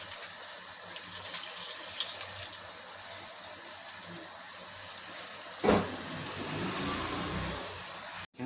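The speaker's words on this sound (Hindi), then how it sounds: "तो इसके लिए जो है हम इसमें थोड़ा सा पानी और डाल लेते हैं।" Water is poured into a pot of beef paya (trotters) in a kitchen, a soft continuous splashing stream that runs quietly for several seconds, with a sharper clatter midway before the flow resumes and stops abruptly at the end.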